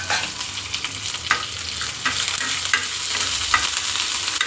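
Dried red chillies and curry leaves sizzle in hot oil for a radish curd bajji, a bright continuous crackle and hiss close by, with occasional stirring scrapes and no talk.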